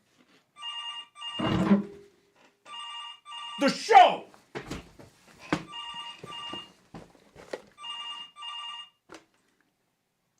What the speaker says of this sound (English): Ah, phone!